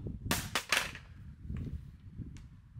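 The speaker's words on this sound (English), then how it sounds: "dropping the Q mag on the top of the magazine, full again" A loaded Q magazine dropped onto its top in a drop test strikes with a few sharp, close clattering impacts in quick succession, followed by faint handling noises.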